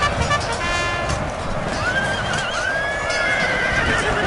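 Cavalry horses whinny loudly in an Empire: Total War multiplayer battle, with rising and falling neighs over a rumbling bed of hooves and battle noise, no voices.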